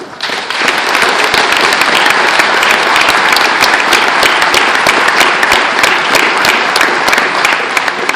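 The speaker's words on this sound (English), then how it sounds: "please join me in a big round of applause" A large audience at an Arizona Republican gubernatorial debate breaks into sustained applause after a candidate's closing statement, a dense, loud and steady roar of clapping with no talk over it.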